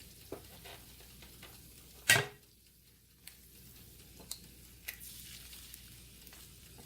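An egg frying on a retro breakfast station griddle gives a faint, quiet sizzle, broken by a few sharp ticks and one louder clack, with no voices.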